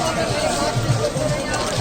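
Pilgrims' babble and chatter fill the air at the Mahakumbh gathering at Triveni Sangam, a thick, steady murmur of many nearby voices with no single speaker standing out.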